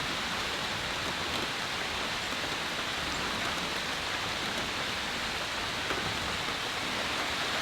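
Rain falls at night in a national forest at a camp, a dense, even hiss of drops on leaves and ground that holds steady and fairly loud throughout.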